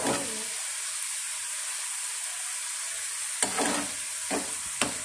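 Namak pare dough pieces fry in hot oil with a steady, moderately loud sizzling hiss, broken near the end by a few short scraping stirs of a utensil in the pan.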